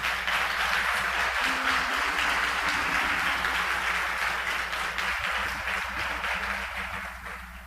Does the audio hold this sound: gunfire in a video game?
no